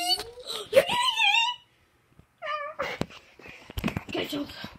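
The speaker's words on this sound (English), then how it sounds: "Look at the kitty." A cat gives drawn-out, wavering meows and whines at close range. Excited voices talk and call out around it, and there is a brief silent gap partway through.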